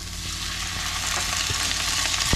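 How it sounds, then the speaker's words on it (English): Onions frying with black pepper in a pan, a steady close sizzle and crackle throughout, with a few soft stirring knocks near the end. "Onions are frying as well."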